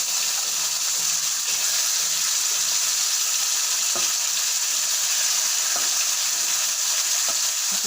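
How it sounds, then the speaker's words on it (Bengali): Cumin seeds and bay leaf crackling in hot oil as a tempering, a loud, dense and continuous sizzle that stays close and even throughout, with an occasional soft clink of a utensil. "এবার আমি জিরে ফোড়ন দিয়ে দেবো তেজপাতা ফোড়ন দিয়ে দেবো"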